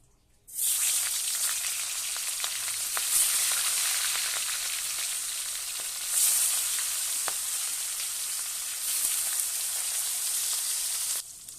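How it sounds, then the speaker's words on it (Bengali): Catla fish pieces rubbed with salt and turmeric are dropped into hot oil in a kadai. A loud, close sizzle bursts in after a moment and crackles on steadily, with small pops and swells. "এবার মাছটাকে ভেজে নেব।"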